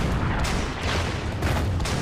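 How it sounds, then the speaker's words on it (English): Bombs pounding a bunker in a war video game, a dense continuous rumble of blasts and booming impacts, loud and unbroken with no clear gaps or speech. "Now let's bomb the bunker again."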